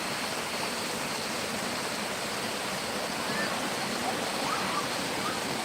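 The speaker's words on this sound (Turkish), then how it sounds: "Şelale buradan başlıyor." Lovers' Waterfall, also known as Nebiler Waterfall, gives a steady, even broadband roar of falling water that holds at a constant level throughout with no breaks.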